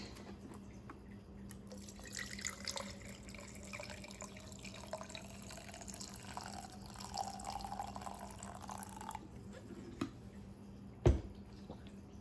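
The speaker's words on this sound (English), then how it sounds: "Now I'm gonna put filtered water in it." Filtered water pours steadily into a container for several seconds, trickling and splashing, then stops; a sharp knock follows near the end.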